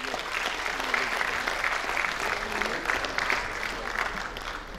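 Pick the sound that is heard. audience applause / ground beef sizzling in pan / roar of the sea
audience applause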